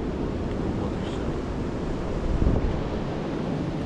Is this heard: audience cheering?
no